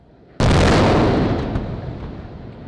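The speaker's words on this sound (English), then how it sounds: "a cloud of methane vapor underneath the booster ignited right when the test began" A methane vapor cloud beneath a SpaceX Starship booster, Booster 7, ignites at the start of a test. It erupts with a sudden, very loud explosion whose roaring rumble slowly fades over the next two seconds.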